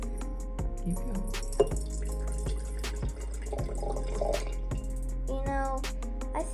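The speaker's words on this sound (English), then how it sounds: "pour in all of the liquid. So we're gonna have half water" Water and liquid pour into a bottle for a homemade thermometer, with splashes and drips, glugs that rise in pitch as it fills, and light clatter from handling, all close by and a little faint.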